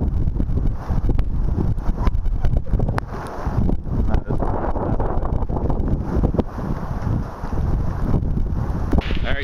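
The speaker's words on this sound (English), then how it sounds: "it is a lot windier" Strong hurricane wind from Hurricane Sandy in Maryland blasts against the microphone in loud, gusty, continuous buffeting with rustling debris throughout, and no voices.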